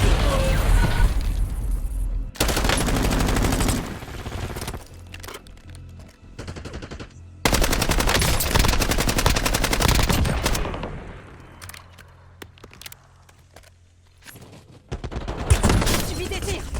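Video game gunfire in a squad match: loud bursts of automatic fire and booms come in dense waves, dropping to a quieter stretch before another heavy volley near the end, with voices talking over the action.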